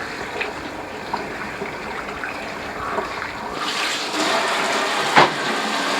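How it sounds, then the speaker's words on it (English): Tap water runs steadily into a kitchen sink while salty roasted green chiles are rinsed, a continuous close hiss and splash that grows slightly louder and busier toward the end. "So let's take them over here to the sink and rinse them off a bit so they're not too salty."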